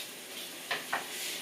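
Masala and spices sizzling in a pan as Achari chicken cooks, a steady soft frying hiss with two brief stirring scrapes partway through.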